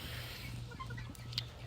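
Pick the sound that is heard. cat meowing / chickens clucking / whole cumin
chickens clucking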